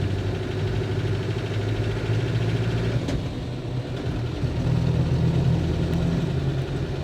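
A 1990s Land Rover Defender's engine drones steadily from inside the cabin while driving, a continuous low rumble with mechanical hum that swells slightly toward the end, no talking.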